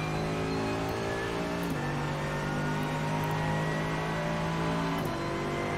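Two Ferrari race cars in the iRacing sim racing game: a steady, loud engine drone that holds its pitch, with two brief dips in pitch midway and near the end like gear shifts, and no talking.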